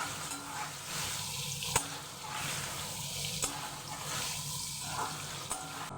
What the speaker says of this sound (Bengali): নুন মাখানো পনিরগুলো এবার আমি হালকা একটু ভেজে নেব